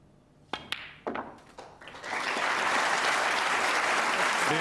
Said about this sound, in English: The applause tells you that Junhui needs a snooker.